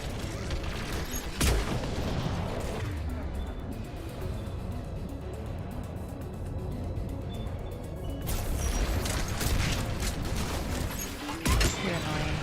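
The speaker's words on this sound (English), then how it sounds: "Turret!" Turret fire in the video game Mass Effect 3, a steady barrage of loud automatic gunshots and booms running throughout, with sharp louder bursts near the start and end, while a player speaks over it.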